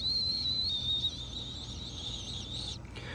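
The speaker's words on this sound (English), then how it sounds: "If it is running, you'll hear something that's like a little short whistle." A pool auto-fill leveler valve running water gives off a steady, thin high whistle that holds for nearly three seconds over a low watery rumble, then cuts off abruptly.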